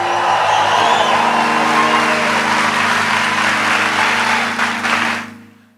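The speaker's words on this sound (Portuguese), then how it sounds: "Dá uma salva de palmas bem forte para o Senhor." A church congregation applauds loudly and steadily, a dense wall of clapping with some cheers and a low hum underneath, holding strong for about five seconds before fading away at the end.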